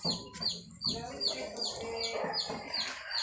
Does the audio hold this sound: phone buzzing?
no